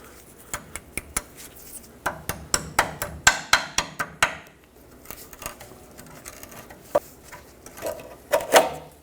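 Pliers work a cotter pin out of a Toyota 4Runner front lower ball joint, a string of sharp metallic clicks and taps in irregular bursts, close and fairly crisp against a quiet background.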